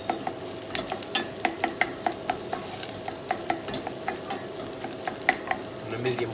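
Tomato paste cooking out in a hot pan for a Middle Eastern shawarma dish, a steady sizzle punctuated by regular, rhythmic scraping taps of stirring, close and fairly loud without any voices.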